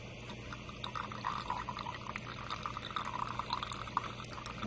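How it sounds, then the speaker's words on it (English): Water being poured off cooked peas in a home kitchen, a continuous close splashing pour with a low steady hum underneath, no talking. "what we're going to do is we're just going to drain the pea water in there."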